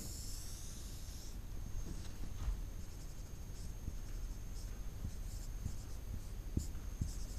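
A teacher writes a science definition on a classroom board, producing continuous soft scratchy strokes with occasional taps over a constant hum and a faint high whine.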